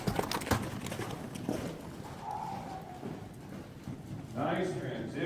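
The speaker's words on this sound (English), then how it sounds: "Look at that beautiful canter." A horse cantering under saddle during early training, with rhythmic muffled hoofbeats on soft ground beneath steady wind noise and a person talking, a brief whinny or squeal near the end.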